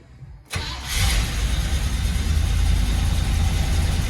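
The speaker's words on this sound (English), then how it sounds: "I think she's cold starting nice now." A 1981 Oldsmobile Delta 88 engine cold-starts: a short quiet stretch, then a sudden loud crank that catches and settles into a steady, rough low idle, close by with no talking.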